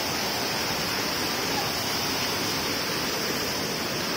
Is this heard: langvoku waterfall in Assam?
yes